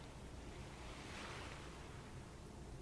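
Ocean waves wash in a soft, continuous roar, a faint distant surf that swells gently in the middle and fades back, with no voices.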